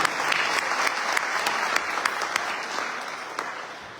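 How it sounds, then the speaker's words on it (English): Sustained audience applause fills the room at a Diwali-season Navaratri temple program, a dense steady wash of many hands clapping at a fairly close distance, with no voices over it. "Big round of applause."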